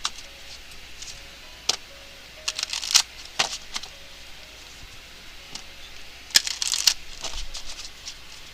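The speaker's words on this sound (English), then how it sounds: "I'm going to pull the Romance Angels card for more clarification for pile 3" Cards from a Romance Angels oracle deck being handled and drawn, soft quiet shuffling and a few sharp flicks and taps scattered across a hushed room.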